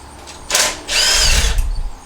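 A power tool removing bolts from a large copper stator, two short loud whirring bursts close by, the second longer than the first.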